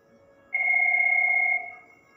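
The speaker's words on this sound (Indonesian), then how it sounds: "Saya akan coba telepon ke dial number 333." A VoIP phone call placed through a Cisco router on a local network produces a single steady electronic ringing tone lasting about a second, clear and fairly close, over a faint background hum.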